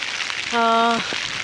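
Steady rain falls in Wayanad as a continuous soft hiss, with a brief tonal sound rising above it for about half a second.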